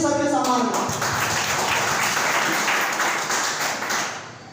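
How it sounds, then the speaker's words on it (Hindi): An audience at an RCM marketing meeting in Sangrampur, Jamui, applauding in honour of a speaker, a loud sustained burst of clapping with faint voices that gradually fades toward the end. "जोरदार ताली बजाएंगे आदरणीय टीसी सर के सम्मान में"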